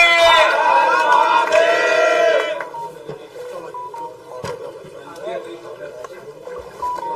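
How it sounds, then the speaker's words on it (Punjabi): A crowd at a Shiv Sena gathering raises a loud, sustained cheer with voiced chanting and shouting for about two seconds, then falls to a lower murmur of voices and scattered noise. "ਇੱਕ ਵਾਰ ਜ਼ੋਰ ਦੀ ਤਾਲੀਆਂ ਮਾਰੋ ਵਿਨੋਦ ਜੈਨ ਜੀ ਲਈ"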